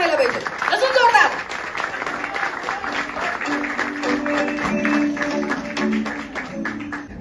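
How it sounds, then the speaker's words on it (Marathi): Audience applause at a Marathi movie trailer launch event, a sustained clapping crowd blending with loud amplified music and voices, dense and continuous throughout. "जोरदार टाळ्या व्हायला पाहिजे, अजून जोरदार."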